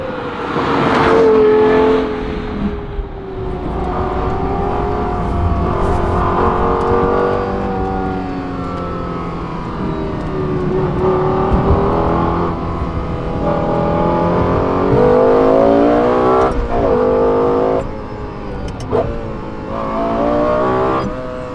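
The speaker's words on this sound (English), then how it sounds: "it's the unmistakable sound of the Lexus LFA" A Lexus LFA supercar engine revs hard and loud, its pitch climbing and dropping in repeated sweeps over more than twenty seconds, with brief lulls between pulls.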